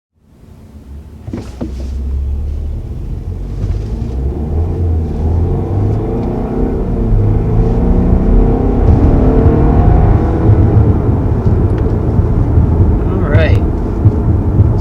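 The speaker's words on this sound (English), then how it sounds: "there's our first acceleration in the 2020 Audi Q5" A 2020 Audi Q5 TFSI accelerating on the road, its engine rising into a loud, steady rumble that builds and holds under continuous cabin road noise, with a brief whoosh near the end.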